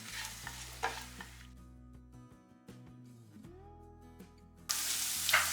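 Sliced small shallots drop into a hot oiled pan for chilli paneer with a sudden sizzle, preceded by a steady hum and faint clinks of utensils.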